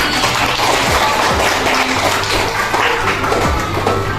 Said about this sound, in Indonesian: Oke, tepuk tangan untuk Safri.